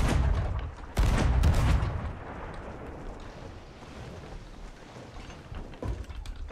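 Heavy booming cannon blasts from Sea of Thieves, with a big double hit near the start, then rumbling and scattered further shots fading out.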